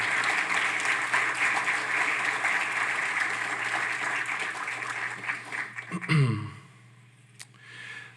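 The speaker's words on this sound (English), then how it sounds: "how about a round of applause for Wendy, Angela, and the MTC team" An audience at an event's opening remarks applauds for the organising team, with steady clapping for about six seconds that tapers off, followed by a brief handling thump and quiet room tone.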